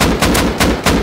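Gunfire in the video game Rust: four loud, close shots at a steady rapid pace, each one a sharp blast that rings briefly, with no talk.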